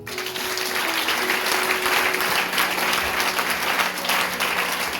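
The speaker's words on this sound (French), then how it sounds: "Oh, acclame Jésus." A church congregation at a seminar applauds loudly and steadily for about five seconds. The dense clapping fills the room and no voices stand out.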